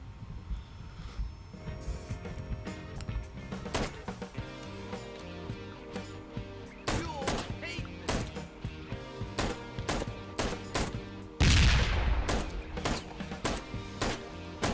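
Repeated gunshots from the video game Ride to Hell, sharp broadband cracks scattered through the clip over a game music bed, with a louder blast near the end; no talking.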